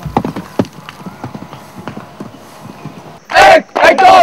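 Horse hooves clip-clop during cadet riding, a run of sharp, uneven hoofbeats close by, followed near the end by two loud, brief bursts.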